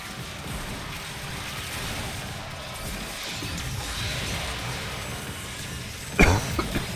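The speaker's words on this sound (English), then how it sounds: "That cough." A single sharp cough bursts out near the end, loud and close, over steady game background noise during a Warframe session.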